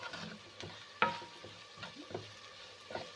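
A spoon stirs bhindi masala of okra, spice powder and salt in a pan, making soft scraping and gentle sizzling, with one sharper clank early and quieter scrapes spaced after it, close and low in level.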